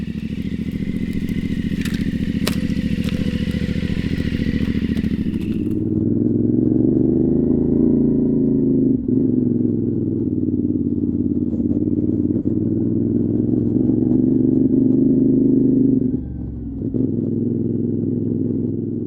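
A CFMOTO 450MT motorcycle engine drones steadily throughout, loud and close, with wind rush at first, then a smoother rumble as the bike cruises along.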